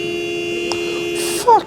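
Car horn in a parking-garage scene from the drama The Leftovers, a sustained electronic-sounding tone followed by a short, loud honk at the end.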